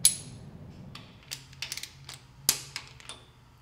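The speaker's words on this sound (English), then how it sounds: "Tighten the stud with a ratchet while making sure the guide plate does not move." A ratchet tightens a rocker stud on a small-block Chevy cylinder head with a pushrod guide plate, giving sharp, close clicks and short ratcheting bursts separated by quiet gaps.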